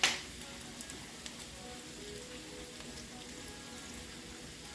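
Onions sizzle steadily in a frying pan, a dense, even crackle that runs alone and close throughout, beginning with a brief louder burst.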